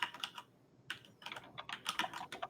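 Rapid bursts of keystrokes on a computer keyboard as a name is typed into a search, clicking in quick irregular clusters with a short pause near the start, close and fairly quiet.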